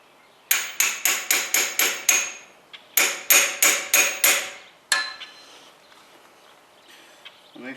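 Metal hammer strikes on a large socket driving an outer pinion shaft seal into an Allis-Chalmers CA tractor: two quick runs of six sharp, ringing blows each, then a single hit and faint clinks.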